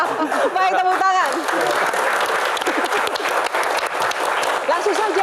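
Audience applause at a live comedy Q&A show, a dense burst of clapping from a crowd that runs throughout, with a voice speaking over it at the start and again near the end.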